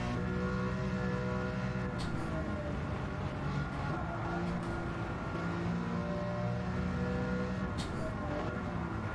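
A BMW M3 in Gran Turismo 7, lapping the Nordschleife: the engine drones and revs steadily under load, with harmonic pitch shifts as it climbs through the gears and a few brief gearshift blips, loud and continuous throughout.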